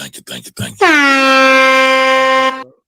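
A loud, sustained air horn blast holds steady for nearly two seconds after a few brief choppy bursts, then cuts off sharply.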